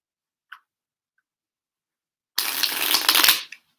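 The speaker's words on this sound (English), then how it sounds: "I'm just going to keep pulling cards and talk about what comes up" Tarot cards shuffled in one brisk riffle lasting about a second, close and crisp, after a tiny tap and near silence.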